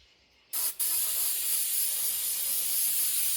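A sharp hiss of cleaner sprayed from an aerosol can onto a John Deere 345 engine part, one brief burst followed by a longer steady spray, close and loud.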